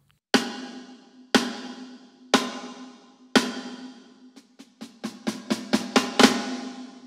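A muffled, high-tuned 14x5.75 Sonor Vintage Series snare drum with a clear Controlled Sound head rings out alone, four evenly spaced crisp hits followed by a quicker run of sharp strokes, close and loud.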